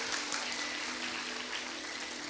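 A church congregation claps in a dense, even burst of applause that carries at steady strength for a couple of seconds, with no voices over it.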